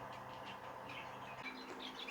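Two normal zebra finches chirp inside a show cage, giving soft, repeated short calls over a low background hum, faint and without talk.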